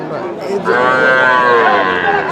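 A Shahiwal bull at a busy rural cattle market lets out a loud, close, drawn-out moo lasting over a second amid crowd murmur.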